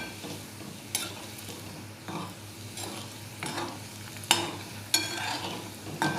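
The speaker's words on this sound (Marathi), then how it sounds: "स्लो गॅसवरतीच करायचे, फ्राय करायचे त्यांना." Kachori frying in oil over a low flame for a fasting-day recipe, with a steady soft sizzle and occasional stirring and scraping sounds, no talking.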